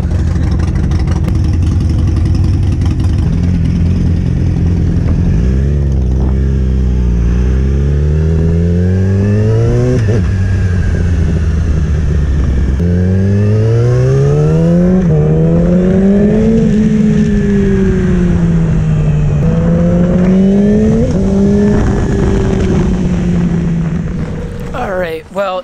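A 2018 Yamaha R6 sport motorcycle engine is heard up close on a ride, its loud whine rising and falling repeatedly as it accelerates and shifts through gears for the whole stretch.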